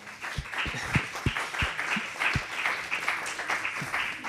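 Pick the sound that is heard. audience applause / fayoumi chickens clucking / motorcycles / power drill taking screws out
audience applause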